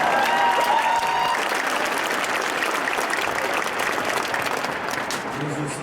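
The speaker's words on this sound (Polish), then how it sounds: "wielkie brawo również dla niego" Applause for an auxiliary bishop of the Wrocław archdiocese at a church gathering, a dense, loud crowd clapping that holds steady for several seconds and tapers slightly toward the end.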